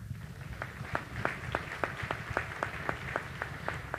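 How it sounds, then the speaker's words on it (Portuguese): An audience at a church leadership conference claps in steady unison, crisp regular beats about three per second, moderately faint over a low murmur of the room. "Vamos aplaudir, gente?"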